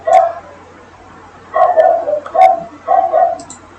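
A dog barks nearby: one bark, a pause, then several quick barks in a short burst.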